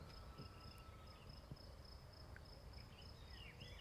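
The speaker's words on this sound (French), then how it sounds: "ça ressemble plus à des grillons, je pense. Voilà, qui chantent." Crickets chirping in a steady, high-pitched trill, faint and continuous against a quiet outdoor backdrop.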